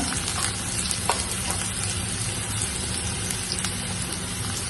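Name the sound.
carrot, ginger and shallots frying in pan for upma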